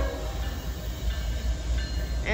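Freight train approaching at St. Denis, a loud continuous low rumble of locomotives and rolling cars with a steady rushing roar, building slightly toward the end.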